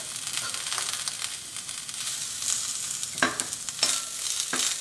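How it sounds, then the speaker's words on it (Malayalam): Pieces of coconut hit a hot dry pan for a roasted coconut chutney and sizzle steadily, with a few sharper crackling bursts near the end and no talking. "നന്നായിട്ട് ചൂടായിട്ട് ഇതിലേക്ക് നമുക്ക് ആദ്യം തന്നെ തേങ്ങ കൊത്തിടാം"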